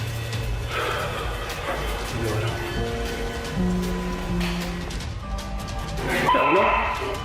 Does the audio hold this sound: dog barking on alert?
yes